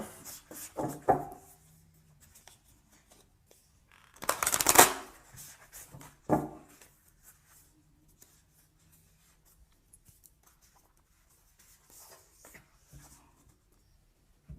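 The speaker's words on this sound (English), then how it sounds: "let's choose a card for" Tarot cards are shuffled in short papery bursts, one brief riffle, then a longer, louder flurry, then a quick final one, close by in an otherwise quiet room.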